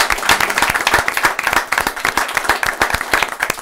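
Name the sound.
audience applause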